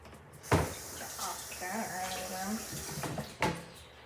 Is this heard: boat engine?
no